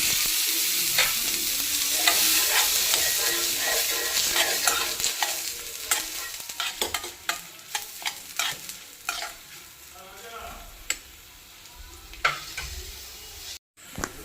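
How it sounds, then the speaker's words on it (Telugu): Spices for Chennai-style Pongal sambar tempering in hot oil with asafoetida, a loud continuous sizzle broken by repeated scraping stirs and sharp spoon taps against the pan, ending in a brief drop to near silence. "తాలింపు వేగిపోయిందండి."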